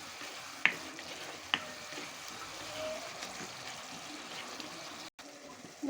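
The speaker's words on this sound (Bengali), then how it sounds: "মশলাটা ভালো তো কষিয়ে নেব।" Spice paste and chopped tomatoes sauté in a pan as a faint, steady sizzle. Two sharp clinks punctuate the start, and there is a brief cut near the end; the frying stays soft and even throughout.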